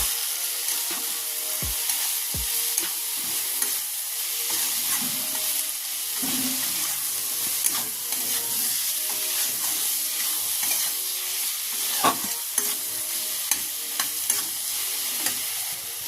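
Spice masala with Kashmiri chili, cumin and coriander stir-fried in a pan for a sea crab curry, with a continuous close sizzling hiss and intermittent spatula scrapes and taps, no talk.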